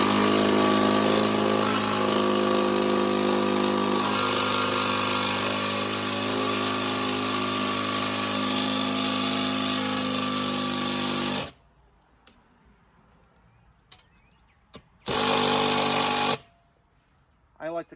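A power tool drives bolts into the supporting structure while a mini split unit is hung, with one long, loud, steady whirring run followed by a shorter burst close by.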